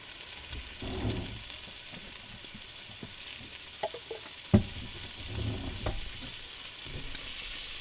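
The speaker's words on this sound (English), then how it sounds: "once your bacon's cooking up nicely, add your onions in." Bacon and onions frying in a pan on a campervan stove on the beach, a low steady sizzle with a few sharp clinks and pops, one louder knock midway, no talking.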